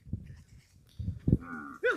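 Kankrej cows being called on a farm, a few close, low moos rising in pitch near the end, with quieter rustling and breathy sounds between them.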